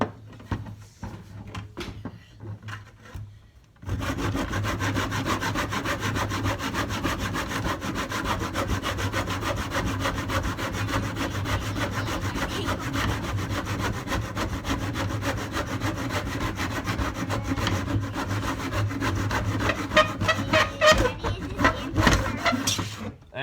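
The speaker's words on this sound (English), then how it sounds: "Saw her up." Hand saw cutting through a 1x3 wooden board, a steady, loud rasping stroke after stroke that runs continuously for most of the clip following a brief quiet start.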